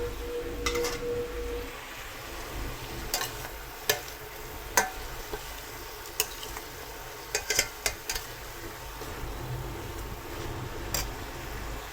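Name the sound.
spice mix and potatoes being stir-fried for rohu fish curry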